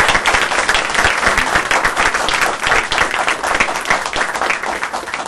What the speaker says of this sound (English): Join me, if you will, in a round of applause for our